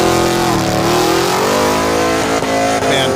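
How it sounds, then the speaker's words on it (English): A project car does a burnout for distance, its engine revving hard and holding high while the tires spin, loud and close with no talking. "Burnouts for distance."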